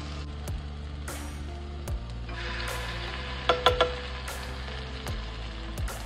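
Sofrito hits a hot pan and gets stirred, giving a steady close sizzle of frying with a few sharp clicks and taps from the spoon partway through. No one speaks.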